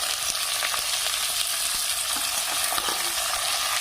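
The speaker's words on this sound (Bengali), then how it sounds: "এটা একটু ভাজা ভাজা হয়ে গেলে এখানে আমি দিয়ে দেবো পেঁয়াজ কুচিগুলো" Chopped onions frying with whole spices in hot oil, a steady loud sizzle throughout with occasional scrapes of stirring.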